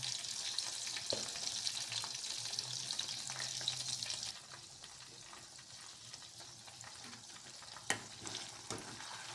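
Mushrooms sizzle steadily in a frying pan for mushroom 65, a close, continuous crackle that drops to a softer hiss partway through, with a few sharp clicks and no talking.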